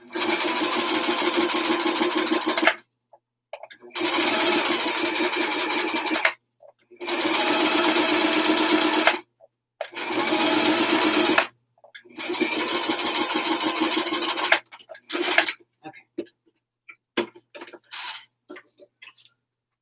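Sewing machine stitching the last seam of a fabric helmet cover: several loud, rapid runs of stitching a few seconds each with brief stops, ending in short choppy bursts.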